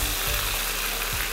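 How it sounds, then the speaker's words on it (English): Continuous sizzling of chicken frying in a hot pan without oil, a dense steady hiss with a few faint low knocks underneath. "Oh, I just love that sizzling sound."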